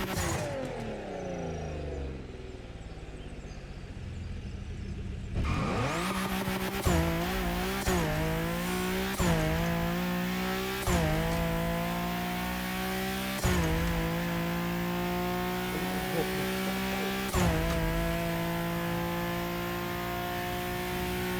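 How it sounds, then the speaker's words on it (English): A car fitted with a Turbo JDM engine kit in the racing video game The Crew Motorfest, idling before the engine bursts into loud repeated revs and gear-shifted acceleration pulls, each surge sharply rising and falling, close and alone. "So let's listen to the JDM, the Turbo JDM engine kit."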